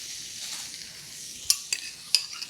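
Berries sizzle in a hot pan while cooking for baked brie, a soft, steady hiss broken by a few sharp clinks of a utensil against the pan.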